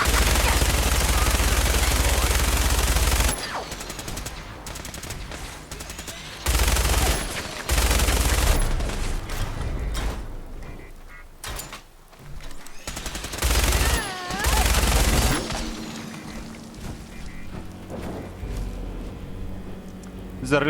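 Enclave soldiers firing guns in a Fallout-style wasteland game, loud bursts of rapid gunfire coming in several long volleys with brief gaps, mixed with booms and other game noise.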